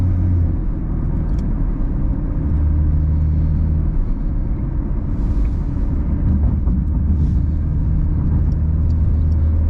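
Porsche 911 992 GT3 driving around town at low speed, a steady, loud low engine and road rumble with a constant drone throughout and no revving bursts.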